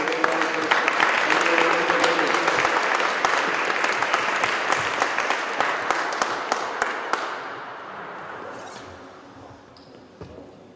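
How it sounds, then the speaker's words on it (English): Audience applause for Robert de Jong at an air transport awards ceremony in Geneva, a loud, dense burst of clapping from a large crowd that holds steady for about seven seconds, then thins and fades. "Please give a big applause to Robert de Jong."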